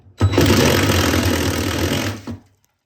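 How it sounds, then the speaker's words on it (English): A drill with a 1 1/8 inch bore bit cuts a hole while installing an over-range microwave mounting plate, a loud close whir lasting about two seconds before spinning down. "So I used a 1 1/8 drilling bore for that."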